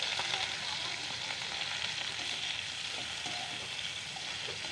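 Sausages frying in hot oil in a pan, giving a dense, continuous hiss and crackle that holds steady throughout, close but soft, with no one speaking.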